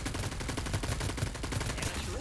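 Rapid automatic gunfire rattles in the video game Farlight 84, a dense, continuous burst of shots heard close and loud throughout.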